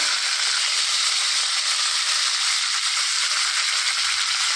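Tempering seeds and a halved dried red chilli sizzle in hot oil for fenugreek-leaf chutney, a steady, close, unbroken crackling hiss that holds evenly throughout with no talk.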